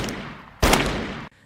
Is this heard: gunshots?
yes